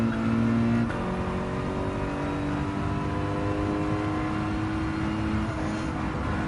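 A race car engine in Gran Turismo 7, a steady droning whine held at high revs with a brief shift near the start, close and constant with no voices.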